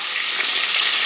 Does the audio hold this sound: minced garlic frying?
yes